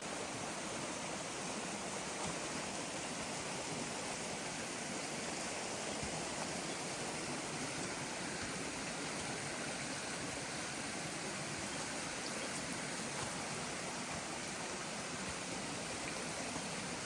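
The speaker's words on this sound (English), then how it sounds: "it's nice to see the cool trickling water next to you as you climb through the rocks" Water trickles steadily through rocks in a stream in a continuous, even rush with no pauses or voices, close to the listener.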